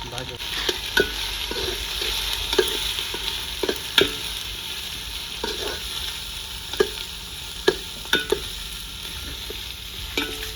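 Onion fries with ginger and whole cumin in a pan for chicken pulao, a soft steady sizzle broken by sharp scraping clicks of a spoon stirring at irregular intervals.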